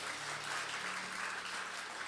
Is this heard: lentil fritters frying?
no